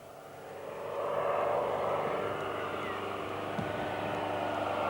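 A fixed-wing agricultural top-dressing aircraft drones overhead. Its engine noise swells in and then holds as a steady, fairly distant roar.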